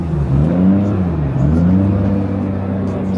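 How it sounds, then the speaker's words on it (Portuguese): A Chevrolet car engine revving loudly at a car meet in Yokohama, with a rising and falling pitch over a steady idle rumble, amid crowd noise. "Chevrolet. Ah, vocês sabem que carro é esse aqui."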